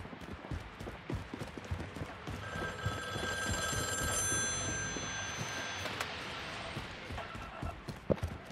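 Inside a bunker in a video game, a telephone rings with a steady, high electronic trill. Faint clattering footsteps and background noise sit under it, and there is no speech.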